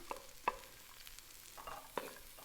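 Toasted chilli cranberry cashews shaken in a pan give off a few sharp rattles and clicks in separate bursts, quiet overall, with no voices.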